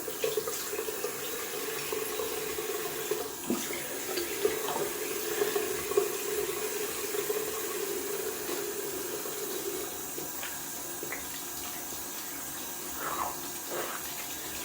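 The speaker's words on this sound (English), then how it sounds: "Just rinsing off the sink down here is pretty heavy with hairs and water there" A bathroom tap runs steadily into a sink as hair is rinsed away after a shave with a double edge safety razor, a soft continuous splashing hiss with a few faint clinks and no talking.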